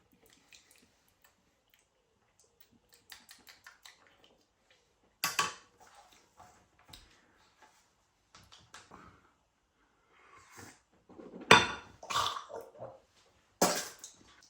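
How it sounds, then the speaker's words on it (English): A metal spoon being cleaned between tastings of baked beans, with sparse clinks, wet squishes and brief scraping sounds in irregular bursts, quiet and close with long silent gaps. "Cleaning the spoon, so there's no cross infection."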